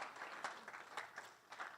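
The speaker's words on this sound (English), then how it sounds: "Let's give the Lord a round of applause" A church congregation gives a round of applause, soft and fairly distant, with quick claps blending into an even, continuous patter.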